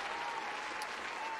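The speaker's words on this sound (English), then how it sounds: "I prefer the new cheer sound. Little clapping." Short burst of light clapping from a livestream cheer alert, a dense steady patter of many hands at moderate volume lasting just over a second, with no voices over it.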